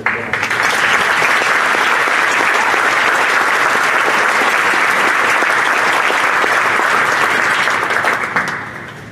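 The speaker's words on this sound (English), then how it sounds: "So let's give them a round of applause." Sustained, loud applause from a large audience at a college graduation ceremony, a dense wash of clapping holding steady for about nine seconds before tapering slightly at the end.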